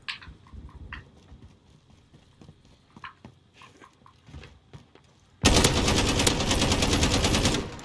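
Heavy, sustained automatic gunfire from a Modern Warfare Infected match on Arklov Peak erupts loudly after several seconds of quieter clicks and scattered game effects, holding dense and close to the end.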